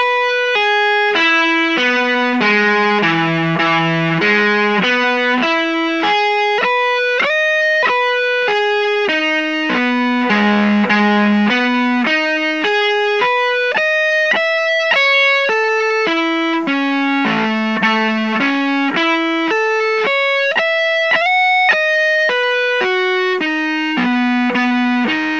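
Distorted electric guitar plays an arpeggio line at slow tempo, with steady rising and falling sweeps of single notes that climb and descend in repeating shapes, loud and sustained throughout with no talking.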